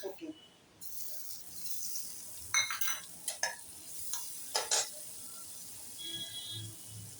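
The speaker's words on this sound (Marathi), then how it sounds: "असं गोल्डन कलरवर सर्व भाजून घ्यायचं" Paneer and soybean cutlets fry in a pan until golden, a steady soft sizzle broken by a few brief louder scrapes and stirring clinks of utensil against the pan, with no one talking.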